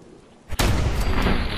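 A single loud gunshot execution in Fallout 4, one sharp boom after a moment of quiet, followed by a lingering rumbling tail.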